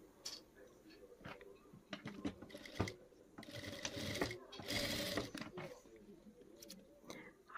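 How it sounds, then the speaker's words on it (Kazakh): A sewing machine stitches white and coloured fabric pieces for a tulip quilt, its needle chattering in quick mechanical bursts that stop and start, with faint handling noises between runs. "Енді солдан оңға қарай тігеміз."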